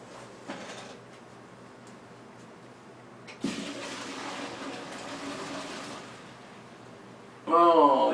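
A pot of cooked macaroni is tipped out in a kitchen, giving a broad rushing gush of water and pasta that runs for about three seconds. A voice speaks briefly at the end.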